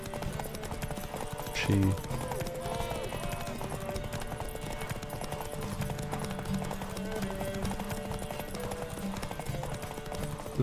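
Hoofbeats of Roach, the horse in The Witcher 3: Wild Hunt, running at a steady clip-clop under game music, with a person talking briefly over it.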